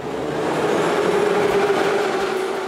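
Continuous rolling roar of a Moscow Metro subway train in motion, with a faint steady whine over the rumble and a few soft knocks, loud and unbroken.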